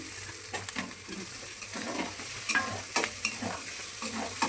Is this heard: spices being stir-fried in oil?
yes